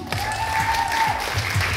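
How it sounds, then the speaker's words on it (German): An audience at a fan meetup on a stage in Hamburg claps steadily, a dense, even patter of applause that holds for the whole stretch at close range. "Applaus!"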